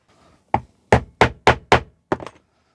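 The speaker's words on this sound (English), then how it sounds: "then do the chisel bit again over here" A leather chisel is struck through veg tan leather with six sharp, evenly spaced hammer blows, loud and close, the last one doubled, with no talking.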